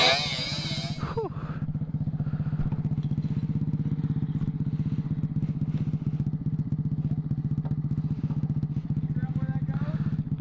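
A Honda CT70 chopper mini bike runs with a steady, close, low-pitched putter throughout, after a brief burst of clatter and noise at the start.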